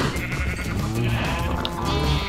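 Sheep bleating in the video game Minecraft, several overlapping blocky bleats repeating steadily over a low, busy in-game background, fairly close and moderately loud throughout.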